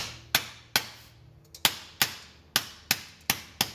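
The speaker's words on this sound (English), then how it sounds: "we're gonna pretty much hammer this against the piece of aluminum" Hammer blows on an aluminum upper door rail piece for a G-Body door panel, eight sharp metallic strikes at a steady, slightly uneven pace, close and loud with short ringing decay between hits.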